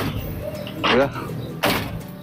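The glass door of a 1973 Dodge pickup is opened and then shut, giving two short, rattling sliding bursts less than a second apart over a low hum, with a voice speaking briefly.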